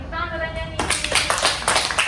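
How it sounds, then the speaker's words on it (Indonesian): A small group claps their hands during a school group guidance session, with a burst of brisk, uneven claps starting partway through after a moment of voices. "tepuk tangan katanya nih"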